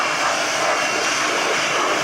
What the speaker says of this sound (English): Listen to him blowing rat turds out of a Corvair engine.